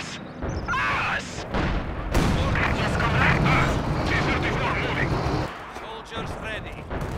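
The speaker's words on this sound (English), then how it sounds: "They're shooting at us!" Battle gunfire and booming artillery in Company of Heroes 2, a loud rumbling barrage with scattered shots, mixed under game voices shouting throughout.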